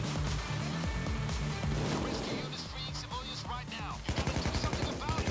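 Gunfire in the video game PayDay 2 rattles in rapid automatic bursts, loud and dense, with crashes and impacts mixed in and a quick run of shots near the end, while someone talks over it.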